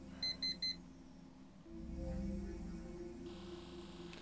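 Three short, bright bursts from an alarm clock ringing in the video game Actual Sunlight, heard near the start, followed by a low steady hum of game ambience.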